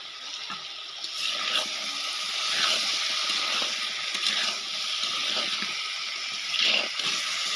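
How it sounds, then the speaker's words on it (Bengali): Water being poured into a pan of taro curry, a continuous gushing splash with a few brief surges, fairly faint and heard on its own. "এবার জল দিয়ে দেবো"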